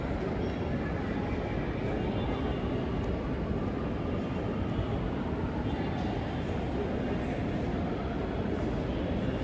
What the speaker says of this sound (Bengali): এই সাইডে ট্রেন আসবে,